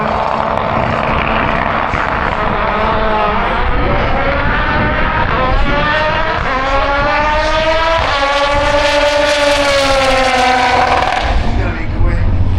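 A Seat Cordova drag car launches down the strip at Santa Pod, its engine climbing through loud, rising revs and gear changes as it pulls away, continuous and powerful, with crowd and commentary noise underneath.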